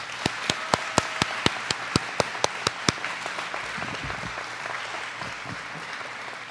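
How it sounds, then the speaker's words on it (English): Audience at a school academic excellence assembly applauding faculty, a soft steady wash of clapping with one nearby pair of hands beating a crisp regular rhythm before it fades out. "Can we give them a round of applause right now?"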